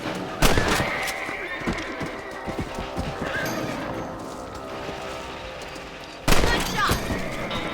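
Gunshots ring out in Red Dead Redemption, two sharp loud blasts several seconds apart with scattered smaller cracks and game ambience between them.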